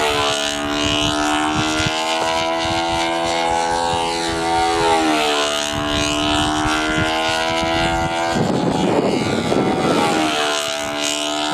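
Steady propeller-aircraft engine drone heard from inside the cabin in flight, a loud continuous hum with layered tonal harmonics that waver slightly, with a brief burst of rougher broadband noise near the end.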